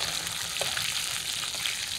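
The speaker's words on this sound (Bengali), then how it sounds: "মাছগুলো এক পিঠ হালকা ভেজে উল্টে দিচ্ছিলাম, এই পিঠও ভাজা হয়ে গেছে," Pieces of a large local rohu fish, about one and a quarter kilos, fry in oil in a wok with a steady, close hiss and sizzle and a few faint pops.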